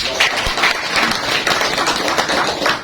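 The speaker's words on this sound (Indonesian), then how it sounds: "Tepuk tangan dulu." An audience at a business talk claps together in a brief, dense burst of applause that holds steady and close for a few seconds.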